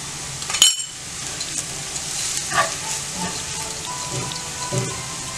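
Coriander powder stirred and roasted in a pan for Kerala-style chicken curry, giving a steady soft sizzle with scattered scraping clicks from a spoon against the pan, no talk.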